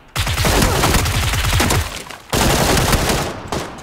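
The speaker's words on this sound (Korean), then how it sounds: "딴 데서 쏜다. 멀리서 쏜다." Loud, close bursts of automatic gunfire in the battle royale game PUBG (Battlegrounds), two long sustained volleys split by a brief gap, with no talking.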